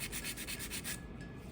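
A 100/180 grit nail file scraping on its rough side over the edge of a press-on nail, a close, steady rubbing rasp in quick even strokes, alone.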